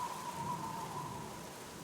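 Steady rain hiss with a faint low thunder rumble underneath in the adventure game The Black Mirror I, continuous and even, with no voices present.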